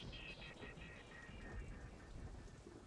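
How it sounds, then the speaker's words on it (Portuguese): Heavy rain pours down steadily in a dense, broadband hiss with a faint low rumble underneath, constant and quiet throughout, without any voices. "A chuva cai pesadamente"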